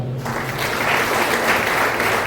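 An audience claps for teachers at a motivational talk, a sustained, even wash of many hands applauding together, steady and fairly loud after a brief quiet start.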